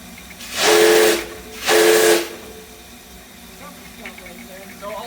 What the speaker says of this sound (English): they're experimenting with a different steam whistle